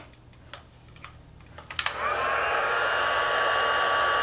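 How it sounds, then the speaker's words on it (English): A heat tool for embossing switches on after a few soft ticks and clicks, then runs as a steady, loud blowing whoosh with a faint whine, close by and alone. "Let me move my powder over and grab my heat tool"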